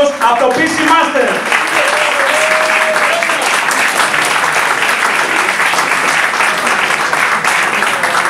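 An audience at a gaming party event claps steadily to welcome a speaker on stage, dense applause filling the space for several seconds after a brief voice at the start.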